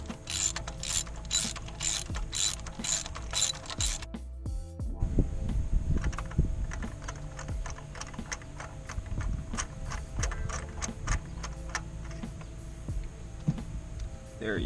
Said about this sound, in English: And loosen up the spark plug.